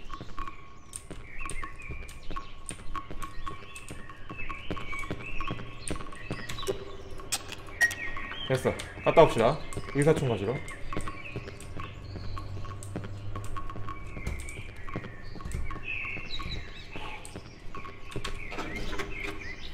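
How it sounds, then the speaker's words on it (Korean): Chirping birdsong in the horror video game Cry of Fear: scattered high, bright chirps repeating through the scene at moderate level, mixed with game ambience and a voice talking. "새소리가 들리는데?"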